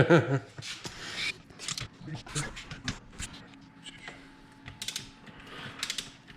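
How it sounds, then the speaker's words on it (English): A ratchet clicks as bolts are tightened on the transmission of a 2020 Polaris RZR XP Turbo, with short mechanical ratcheting bursts close by and talk over much of it. "we're going to get all these tightened down to 20 foot-pound"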